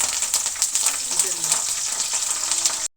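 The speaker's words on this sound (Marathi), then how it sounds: "आता हा आहे कढीपत्ता आपण तो सुद्धा तळून घेऊया" Curry leaves frying in hot oil for a spiced puffed-rice snack give a bright, steady crackling sizzle, close and fairly loud, that cuts off abruptly at the end.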